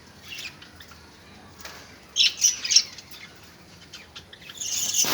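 Red-eye birds in a home aviary give short, high chirps and tweets, a few brief bright calls clustered in the middle and more near the end, close, over faint background noise.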